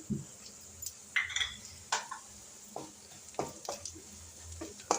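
Turmeric powder, a teaspoon of garam masala and dried red chillies fry in a pan for a tomato chutney under a low sizzle, broken by irregular scrapes and clinks of a spoon against the pan.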